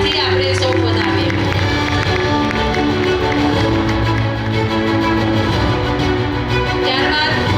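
Applause from the audience at a college annual function award ceremony, a loud sustained wash of crowd clapping and cheering, with a voice speaking through it.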